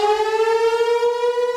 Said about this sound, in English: When you hear the sirens go off down here